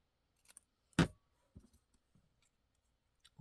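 The end of a folded piece of craft paper is snipped once, a single crisp close cut in an otherwise quiet moment with faint small handling noises around it.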